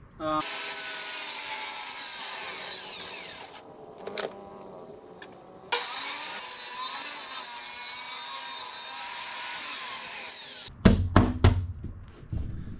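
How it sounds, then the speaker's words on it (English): A borrowed table saw set to a 30-degree bevel rips through wood in two long, loud whining cuts with a short pause between them, followed by several sharp thunks of wood being handled. "So I went and borrowed this table saw from my friend, and I already put the bevel I need, 30 degrees."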